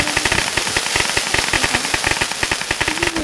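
Diwali firecrackers burst in a rapid, loud chain of sharp cracks, like a string of crackers going off close by in quick, fairly even succession.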